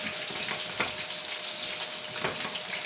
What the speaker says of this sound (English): Keep stirring and press, press, press.